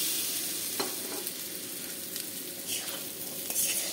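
Egg and potato dropped into a pan of spice masala, fried down with chili, coriander and cumin powder, sizzling and frying steadily up close with occasional stirring clinks.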